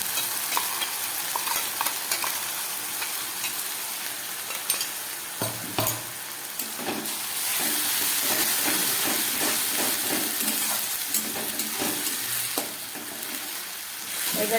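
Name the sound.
ground spice paste stir-fried with onion and tomato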